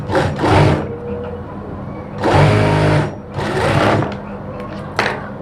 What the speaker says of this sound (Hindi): उसके बाद इसकी ये वाली सिलाई लगा लें किनारे में